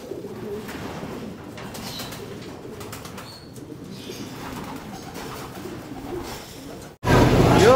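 Breeder pigeons cooing inside a racing-pigeon loft, a steady low murmur of overlapping coos under faint rustling and wing flaps, ending in a sudden louder burst of noise.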